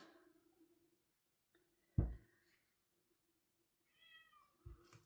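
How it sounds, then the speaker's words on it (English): A cat meows a few times from nearby at a door, trying to come in, with a sharp knock-like thud between the calls and quiet stretches in between. "can hear my one cat is at my door trying to come in."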